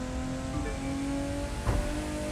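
A TVR Sagaris sports car in The Crew 2 racing game accelerates with a steady, loud engine drone, a close mechanical hum holding throughout without speech.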